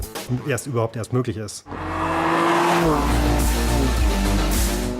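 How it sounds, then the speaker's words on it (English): A BMW M3/M4 high-revving inline six-cylinder twin-turbo engine starts after a stretch of speech, then holds a loud, rising and falling rev with a steady drone beneath. "The new high-revving six-cylinder inline engine with M twin-power turbo technology provides 431 horsepower"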